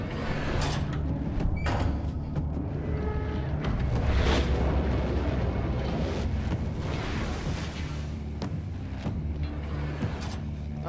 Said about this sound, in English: That's the most accurate torpedo I've ever seen.